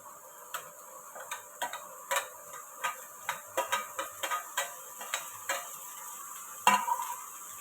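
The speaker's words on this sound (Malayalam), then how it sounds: "ഇനി എല്ലാം കൂടി ഒന്ന് മിക്സ് ചെയ്തെടുക്കാം നല്ലതുപോലെ തന്നെ വഴറ്റി കൊടുക്കാമേ" Chopped snake gourd is stirred and sautéed in a pan for thoran, with a spatula scraping and tapping in a steady series of light, close strokes over a quiet, faint sizzle.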